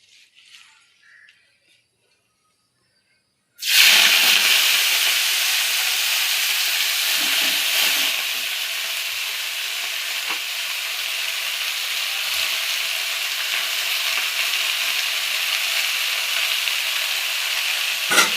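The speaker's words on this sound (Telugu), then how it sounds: "ఈ గోంగూర కూడా ఆయిల్లో వేపుకుందామండి" Gongura leaves are dropped into hot oil in a kadai and start to fry. The loud, steady sizzle and hiss begins suddenly after a quiet moment and carries on unbroken.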